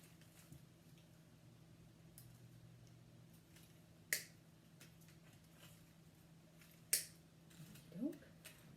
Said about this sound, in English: then I'm going to snip off the extra wire that's hanging here